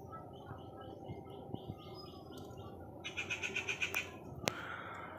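Pigeons kept in a loft give soft calls and chirps over a steady background murmur, with a short run of rhythmic wing-flap or cooing pulses near the end.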